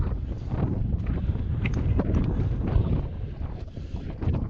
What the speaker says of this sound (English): Wind's getting up a little bit now.